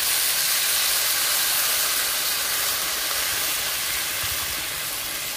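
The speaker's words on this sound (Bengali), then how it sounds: "দিয়ে পরিমাণ মতো জল দিয়ে দিচ্ছি" Water poured into a hot pan of katla fish curry with spices sets off a loud, continuous steaming hiss that fills the whole stretch and eases slightly toward the end.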